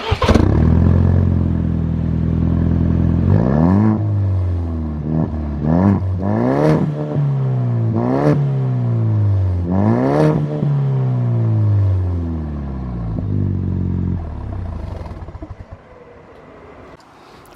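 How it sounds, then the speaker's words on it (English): A 2020 Ford Ranger fitted with a factory muffler delete kit starts and idles loudly, then rises through a series of sharp revs in quick succession before settling back to a steady idle, close up with no talking. "I'm gonna go start it up real quick, just so you can hear what it sounds like with this factory delete kit on there one more time"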